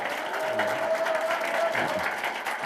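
Steady applause from a crowd at the opening of an election campaign office for a by-election candidate, sustained and fairly dense throughout, with faint voices and a thin tone drifting underneath.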